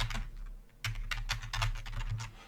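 Keys clack on a computer keyboard while a formula is entered into an Excel spreadsheet, a close burst of quick irregular taps with a brief pause partway through.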